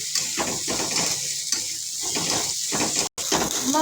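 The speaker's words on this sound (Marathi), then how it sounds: "त्यामध्ये थोडंसं अद्रक लसूण टाकून घ्यायचं, परत परतवून घ्यायचं जरा छान पैकी" Ginger and garlic sautéing in oil in a pan: a steady close sizzle with repeated stirring and scraping strokes at an even rhythm, with no talk over it.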